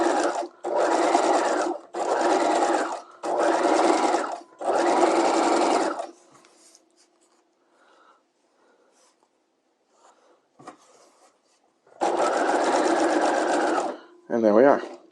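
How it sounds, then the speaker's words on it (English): A sewing machine stitches rows of ease stitches along a dress sleeve, running in five steady bursts of rapid, even whirring, then going quiet before two more runs near the end, close and loud with no talk. "we'll stitch in the same exact place as we did before"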